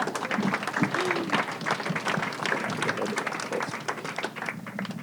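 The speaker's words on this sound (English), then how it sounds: "Give her a round of applause" Steady audience applause fills the room at a live talk-show event, a dense even wash of many hands clapping at constant strength throughout, with faint voices mixed in.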